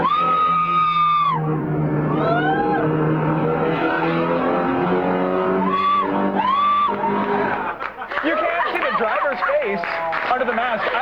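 A woman screams and shrieks in long, loud, pitched wails while riding in a speeding race car, with the engine roaring and revving underneath and a few other voices shouting near the end.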